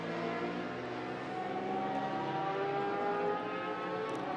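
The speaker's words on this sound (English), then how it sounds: "You can hear them bikes in the background" Twin-class racing motorcycles on a track, a steady, distant engine drone with a slight pitch rise, continuous and fairly faint, with no talking.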